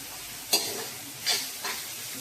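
Garlic frying in a pan with turmeric added, a continuous close sizzle broken by three quick stirring scrapes, no voices.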